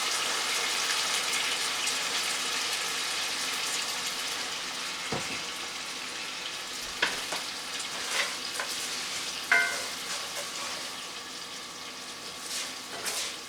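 Chicken and mushroom risotto with a splash of Malbec sizzles steadily in a pan, a continuous bright hiss with occasional pops and clicks of stirring.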